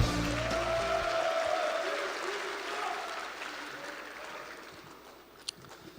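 A crowd at a Democratic Party joint campaign rally in Jeju applauds to welcome candidate Kim Doo-kwan. A voice over the loudspeakers briefly overlaps the start, then broad, steady clapping continues and gradually fades.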